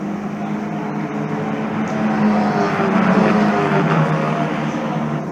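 Formula Winter Series single-seater race cars howl around the Valencia circuit in a steady, loud engine drone, building slightly as they pass, with no voices over the sound.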